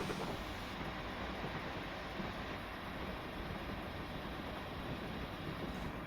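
Steam locomotive running in Train Simulator Classic on the Torbay line, a steady broadband rumble and roar of the moving train that holds at an even level throughout with no voices.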